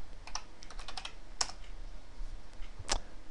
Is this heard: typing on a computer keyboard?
yes